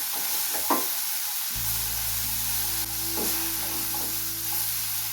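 Ingredients for Sri Lankan fried rice sizzling and frying steadily in a pan, a continuous close hiss with light stirring noises.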